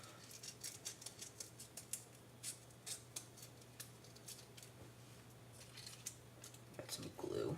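Scissors snip around the excess material of a craft project in a series of quiet, close clicks at an uneven pace, over a low hum.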